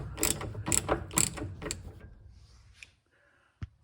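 Loosening 5/8 head bolts on the steering box of a 1966 Ford Mustang: a few quick, sharp ratcheting bursts close by, followed by quieter scattered clicks and a final metallic knock.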